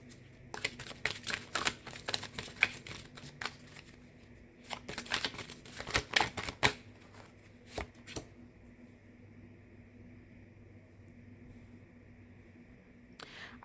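Tarot cards being shuffled and drawn by hand, bursts of papery riffling and slapping in quick clusters, then a few isolated flicks before falling quiet over a faint hum.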